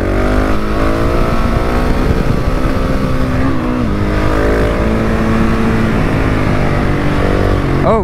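A 2019 KTM 690 SMC R single-cylinder supermoto revs hard while wheeling in third gear, a loud, close, continuous engine drone rising and falling in pitch, with no talking over it.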